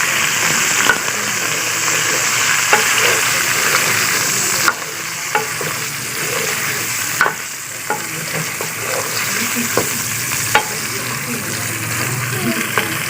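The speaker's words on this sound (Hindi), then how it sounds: "अब हम इसमें चिकन ऐड करेंगे।" Half a kilo of chicken sizzles and fries in a pot for chicken nihari, a steady close crackle with occasional stirring clinks and scrapes throughout.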